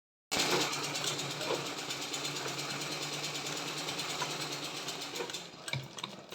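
An embroidery sewing machine stitches fabric held in a frame, a fast, steady mechanical clatter that runs continuously at close range for about six seconds before slowing slightly.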